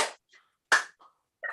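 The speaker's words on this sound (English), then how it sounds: "So you just start clapping." Hands clapping during a laughter yoga session: two sharp claps spaced apart, each followed by softer faint taps, close and fairly quiet with no talk.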